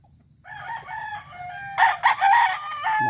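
Roosters crow at a chicken farm, one near crow rising and held for a few seconds, with other birds clucking and a second call starting at the end.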